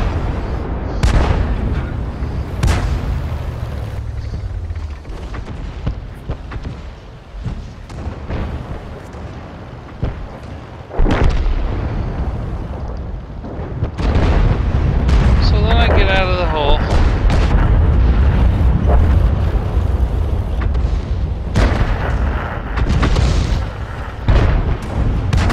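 Artillery shots and explosions in a video game: several deep booming blasts spread out at intervals, with a rumbling low roar between them.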